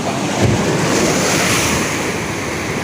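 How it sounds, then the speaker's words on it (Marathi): Loud high-tide sea waves surge and crash against the shore in a continuous roar, with wind buffeting the microphone and no voices. "भरती आली पाणी बघा कसं वरती आपटते किनाऱ्याला"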